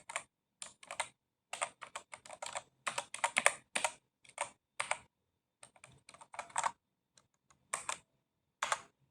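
Keystrokes on a computer keyboard as a master password is entered, arriving in quick bursts of sharp, close taps separated by short pauses, with no talking.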